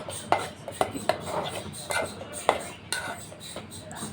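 A spoon scrapes and clinks against a bowl while food colouring is stirred into food, giving a series of sharp, close taps at irregular intervals over a soft rustling mix.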